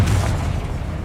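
A Confringo blasting spell goes off in Hogwarts Legacy, a loud, close, low booming burst that rumbles briefly and then decays, with no talk over it.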